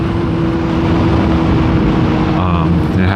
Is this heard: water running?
no